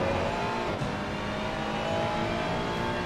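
A race car engine on the Laguna Seca track holds a steady, loud, high-pitched revving drone from start to finish, close and continuous, with no talking.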